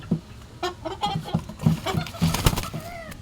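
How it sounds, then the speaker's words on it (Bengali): Domestic chickens raised at home cluck close by in a quick run of short, repeated clucks, with brief faint rustling and no talk. "আজকে আমাদের বাড়ির মুরগি দেখাবো আপনাদের"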